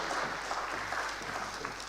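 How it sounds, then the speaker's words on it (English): At a national tax dialogue event, an audience claps in a dense, continuous burst that stays steady for a couple of seconds, with no talking over it. "Another round of applause for the Honorable Minister"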